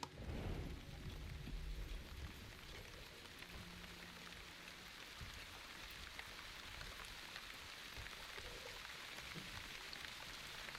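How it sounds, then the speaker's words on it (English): Rain falls in a video game, a soft, steady hiss of drops that runs evenly throughout, with a louder burst of rumbling at the start, then quieter background ambience. "It's raining."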